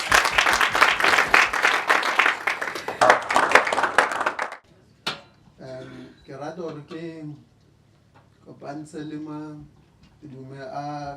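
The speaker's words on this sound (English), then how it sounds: "can we just give them a round of applause?" At an incubation programme close-out event, an audience claps loudly for the programme beneficiaries in a dense burst lasting about four seconds, then stops abruptly and a person starts speaking.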